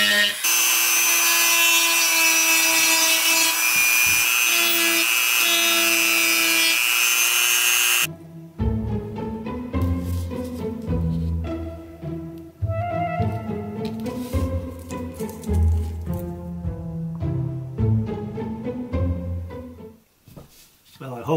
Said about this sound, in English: I'm going to sand the edges